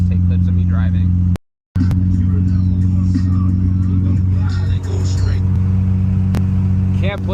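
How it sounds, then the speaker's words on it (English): Nissan S14 being driven on the road: a loud, steady low engine hum and rumble from inside the car with a brief cut near the start and slight shifts in pitch, with some faint voice over it. "I'm gonna stop talking now and just take clips of me driving."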